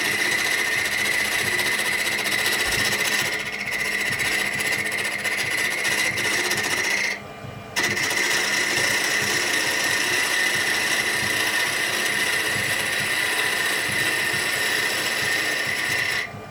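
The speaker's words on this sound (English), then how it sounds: "This is no different than any other spindle turning, except it's smaller and you just need to take lighter passes." Small wooden spindle turned on a lathe, a steady, close whirring scrape of the cutting tool against wood that pauses briefly partway through, then resumes until the end.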